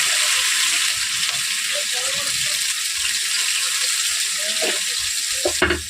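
Spice paste of green chilli frying in a pan for a cauliflower and fish curry, a steady bright sizzle throughout, with a few clinks near the end and faint talk beneath.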